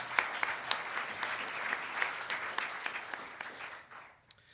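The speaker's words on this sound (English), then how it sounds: "We can give them a round of applause." A conference audience at a higher-education summit gives a round of applause, soft and fairly distant, with scattered sharper claps standing out before it fades away.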